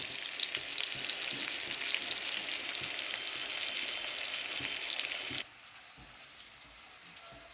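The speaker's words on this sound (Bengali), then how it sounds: "এই যে রুই মাছটাকে ভাইজা নিছি" Rohu fish frying in a pan, a loud, steady crackling sizzle that runs unbroken, then drops abruptly to a quieter simmering hiss for the last couple of seconds, with no voices.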